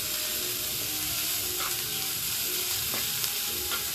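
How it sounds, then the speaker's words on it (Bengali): Chopped onion and carrot for a vegetable momo filling fry in a pan with a constant close sizzle, while a spatula stirs and scrapes them in a few soft strokes. "এবার দিয়ে দিলাম গাজর আর পেঁয়াজটা দিয়ে ভালো করে নাড়বো"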